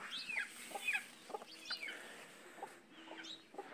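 Hens clucking in short, soft, repeated bursts at moderate distance, just after a cat attacked and killed some of them and left one injured, with scattered higher chirps and calls overlapping through a quiet outdoor farmyard background.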